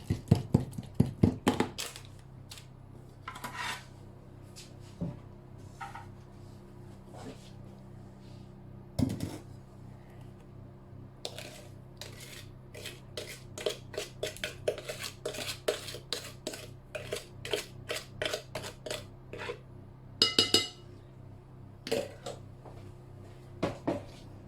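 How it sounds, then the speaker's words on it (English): Cake batter being mixed into a dry mix in a bowl for a courgette and hazelnut chocolate cake, heard as irregular scraping and clinking of a utensil against the bowl, close and fairly quiet, with no talk. "we are going to add it into our dry mix and mix it all together"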